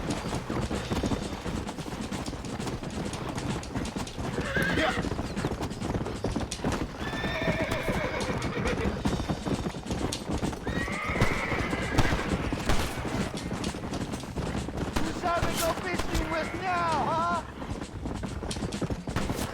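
In the Red Dead Redemption video game, a horse gallops with rapid clip-clop hoofbeats and gives several whinnying neighs, while someone talks over the action throughout.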